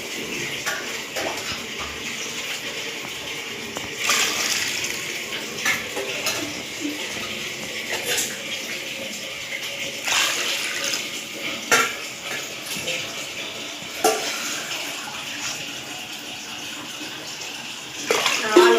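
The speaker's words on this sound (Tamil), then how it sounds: "அதை நான் தண்ணி அளந்து ஊற்றிக்கிறேன்" Water poured into a cooking pot over three measured tumblers of rice for chicken biryani, a steady splashing pour with kitchen clatter of dishes and utensils, close and fairly loud throughout.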